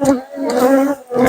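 Honey bees from a tiny winter swarm with a virgin queen hum at close range in a loud, steady tonal buzz that swells and dips briefly.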